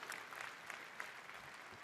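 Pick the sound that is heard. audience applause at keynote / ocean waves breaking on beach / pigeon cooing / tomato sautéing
audience applause at keynote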